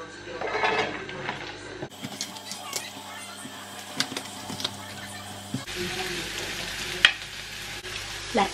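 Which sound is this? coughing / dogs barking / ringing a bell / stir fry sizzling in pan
stir fry sizzling in pan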